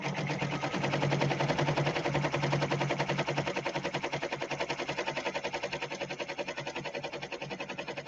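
A multi-needle embroidery machine stitches a small decorative pattern, giving a steady rapid mechanical chatter with a fine regular pulse that runs continuously at moderate level, with a low hum underneath.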